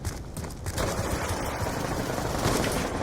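Rapid automatic gunfire from the video game Black Ops 2, dense bursts of shots running almost continuously at moderate level with no talk over them.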